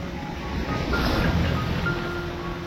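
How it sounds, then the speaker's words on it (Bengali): Sea waves roll in along Digha Marine Drive in a steady, loud wash of surf with wind buffeting the microphone, swelling in the middle before easing back. "ঢেউটা আসছে দেখো শুধু।"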